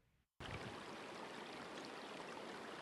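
Water of a stream flowing through the historic oil town of Mentryville, a steady broadband rush that starts abruptly after a brief quiet moment and continues evenly, fairly close, with no voices.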